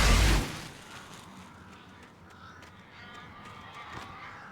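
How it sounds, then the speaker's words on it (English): Crows caw outside in a dark forest setting of Alan Wake Remastered, a faint scattering of calls over a steady ambient wash after a loud burst at the start. "Ah, I can hear all the crows out there"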